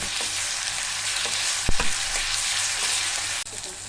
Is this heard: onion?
yes